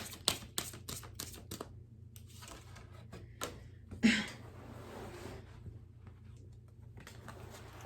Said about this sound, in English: we got cards falling out, a whole bunch of them